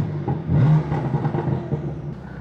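A BMW F8X M-series car with an S55 engine revs nearby, a smooth rumbling exhaust note rising and falling for a couple of seconds.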